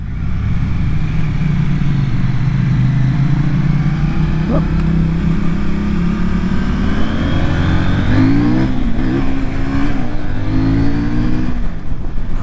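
A CF Moto NK800 motorcycle engine drones steadily while riding, then revs and climbs in pitch through the gears, loud and close with wind noise, as a rider talks over it.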